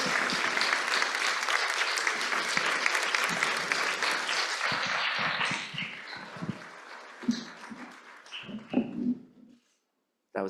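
Audience applause at a community gathering on Indigenous belonging at UVM, a dense, loud clapping that runs steadily for several seconds, then thins into scattered claps and fades out.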